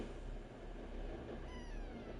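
A hungry pet cat named Deuce gives a soft, drawn-out meow, faint and fairly distant over a quiet room hum, with a slight wavering rise near the end.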